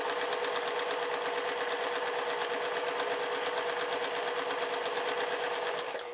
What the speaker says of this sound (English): I'm going to stitch down 1/4 inch right along that diagonal.